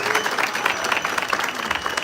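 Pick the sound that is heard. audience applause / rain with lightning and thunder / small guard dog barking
audience applause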